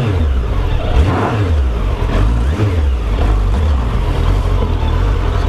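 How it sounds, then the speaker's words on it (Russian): A Suzuki GSF1200S Bandit motorcycle engine revs loudly and continuously nearby, its pitch rising and falling in repeated surges with a steady throaty rumble underneath. "очень оборотистый двигатель."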